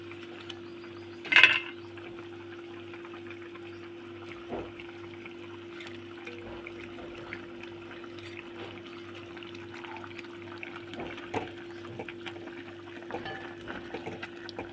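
Mustard-style pabda fish curry gravy bubbling in a pan on the stove: a faint, steady simmer over a constant low hum, with one brief louder splash near the start and no talking.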